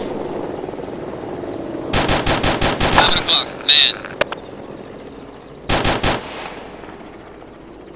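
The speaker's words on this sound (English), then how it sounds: "that chopper is shooting on us, it sounds like" Helicopter machine gun fire in the Arma 2 video game, heard as loud rapid bursts of shots over steady rotor and battle noise, with a later short burst; someone speaks briefly over the action.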